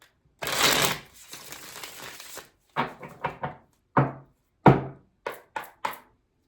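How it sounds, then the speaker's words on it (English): Tarot cards being shuffled by hand: a long riffling burst near the start, then a run of short, separate snaps and taps as the deck is cut and squared, close and fairly clear with no talk. "One more shuffle."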